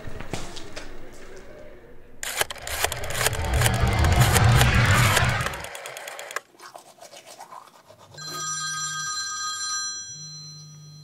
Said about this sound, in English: Let's go ahead and dial our contestant.